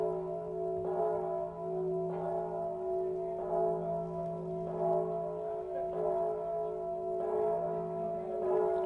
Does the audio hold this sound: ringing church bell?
yes